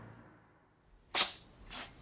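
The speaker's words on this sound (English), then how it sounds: "Shush, Elgar, stop sneezing." A cat sneezes in a radio comedy scene, one sharp, hissy burst followed by a softer second sneeze in a quiet room.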